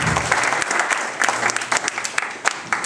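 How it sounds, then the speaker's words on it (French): A crowd at a 2012 AFT Brabant tennis tournament prize ceremony applauds the organiser, giving steady, lively clapping from many hands close by for a few seconds. "Je voudrais demander de l'applaudir"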